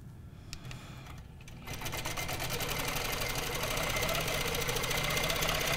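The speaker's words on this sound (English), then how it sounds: "I'm going to stitch her out to the edge and then stitch back in" A sewing machine stitches a wave line across a quilt, a steady rapid mechanical chatter that starts softly and then runs continuously and louder, close by, with no talk.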